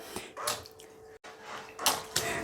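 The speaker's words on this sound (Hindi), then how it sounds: "तो ये पानी को बाहर फेंक दे रहा है" A high-speed remote control boat sprays water out in several short hissing, splashing bursts, close and fairly loud, with a brief cut in the middle.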